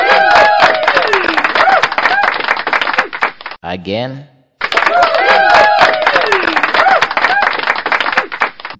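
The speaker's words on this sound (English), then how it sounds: "Let me clap for all of them." Dense, rapid hand clapping from one or a few people, loud and close, continuing for several seconds, briefly stopping for a short spoken word, then resuming just as busily.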